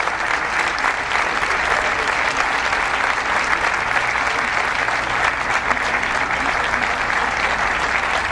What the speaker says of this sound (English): Please, a round of applause for our honored guests.